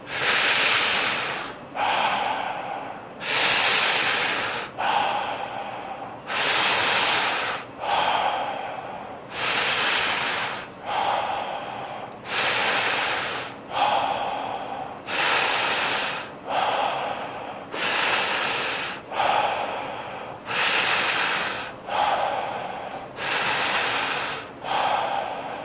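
Slow, deep breathing in a guided exercise, with long, steady inhales and exhales alternating in an even rhythm, close and clearly audible throughout with no talking.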